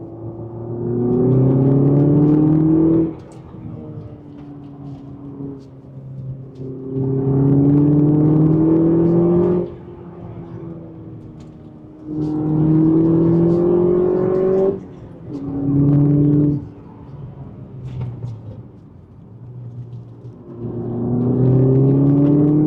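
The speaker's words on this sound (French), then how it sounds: "Allez, j'accélère, tu vas voir." An Audi S1 Quattro in dynamic drive mode pulls hard in third gear, its engine note climbing in four or five loud surges, each broken by a brief drop as the throttle lifts.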